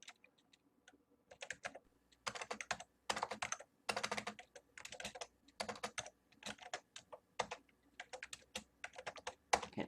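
Bursts of close, crisp keystrokes on a computer keyboard, typed in irregular clusters with short pauses between them, on an older PC running DOS, with no talking.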